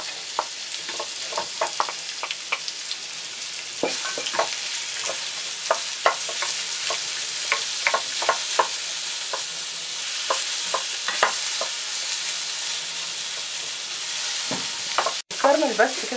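Onions fry in oil with a constant sizzling hiss while a utensil stirs them, adding frequent scraping taps and knocks against the pan over a long stretch.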